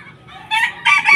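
A bantam rooster crows nearby in a short, strained call that rises in two louder bursts, with soft background noise and no talk.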